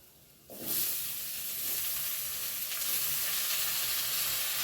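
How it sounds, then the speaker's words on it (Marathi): Tomatoes hit a pan of sautéing onion with a sudden loud sizzle, then hiss steadily and close up for several seconds with no voices. "हे पण आता छान परतून घ्यायचंय मौसूत होईपर्यंत"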